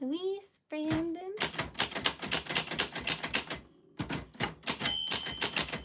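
A 1949 typewriter clacks in rapid, uneven bursts of sharp keystrokes, close and loud, with a brief pause partway; a voice speaks briefly at the start before the typing takes over.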